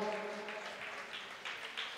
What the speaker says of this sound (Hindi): एक बार जोरदार तालियां बजाइएगा।